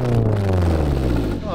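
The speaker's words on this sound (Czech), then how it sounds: "Hele, zvuk auta." Rough, rumbling idle of an old tuned car engine with a slightly leaky exhaust, a steady low drone with some clatter heard close by, and a voice briefly speaking over it.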